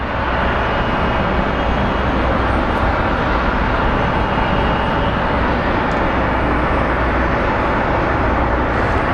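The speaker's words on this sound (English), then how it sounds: "Southwest 1288 from Cleveland is on final" A Southwest airliner on final approach into Phoenix Sky Harbor sends out a steady, loud, broadband engine roar that holds evenly for the whole stretch, with no voices over it.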